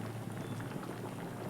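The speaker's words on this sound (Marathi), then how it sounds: "बघू शकता तुम्ही आपल्या वांग्याच्या भाजीला अशी मस्त उकळी आलेली आहे" Pot of eggplant curry (vangi bhaji) at a steady boil, a dense, continuous bubbling and popping that stays even and close, with no voices over it.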